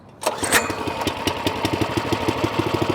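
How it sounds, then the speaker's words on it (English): Small engine on a self-walking plate compactor chugging just after starting, a rough, rapid, uneven putter with knocking pulses, running steadily and close by with no voices. "it's a self-walking plate compactor"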